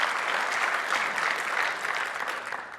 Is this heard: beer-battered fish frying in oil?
no